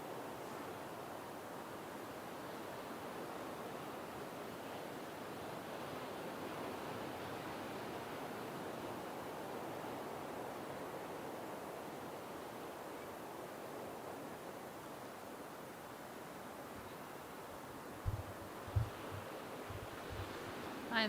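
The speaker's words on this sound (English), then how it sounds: "Still so many waves on tap here in Jeffreys Bay." Ocean surf rolling in at Jeffreys Bay during a longboard surfing championship, a steady broadband wash of breaking waves with wind, fairly distant and continuous, with a few faint thumps near the end.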